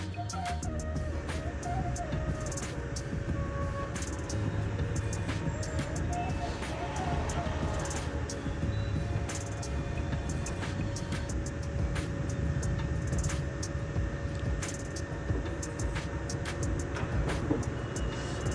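Traffic rushing along the newly tarred NH66 highway, a continuous steady roar of vehicles passing at speed with no breaks, a voice talking over it throughout.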